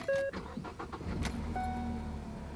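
An economy car with a clear-coat finish starts up with a short cranking burst of beeps and chimes, then settles into a steady, fairly loud idle hum close by.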